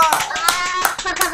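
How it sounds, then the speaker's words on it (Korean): Several people clapping hands in quick bursts during a livestream, close and fairly loud, with voices and a child's speech overlapping the claps. "박수 쳐라"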